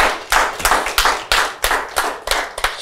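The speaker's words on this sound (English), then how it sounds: "Let's clap for them again." Audience clapping at a shares marketing seminar, sharp rhythmic claps in a quick, slightly uneven beat, close and loud, with no voices over them.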